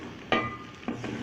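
Boiled chickpeas frying with spices in a pan while being stirred, giving a soft continuous sizzle with two brief scraping stirs standing out, close and fairly quiet.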